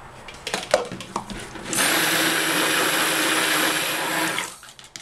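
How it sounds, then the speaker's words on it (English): A blender runs steadily for about three seconds, starting abruptly and then cutting off, a loud close whirring drone, used while making cold process soap and rinsing the jar. "I want to rinse my blender"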